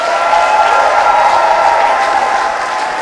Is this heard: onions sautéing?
no